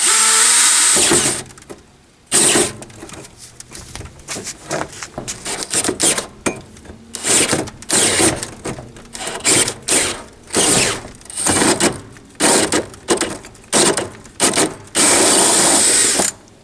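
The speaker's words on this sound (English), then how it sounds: "we're just going to drill this hole" A power drill whirs loudly in repeated bursts as a hole saw bites through a plastic barrel, stopping and starting with brief pauses between runs.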